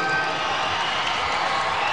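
Basketball fans inside the Big Dome roar in a steady, diffuse crowd din during a PBA game between Barangay Ginebra and GlobalPort, with no distinct claps or shouts standing out.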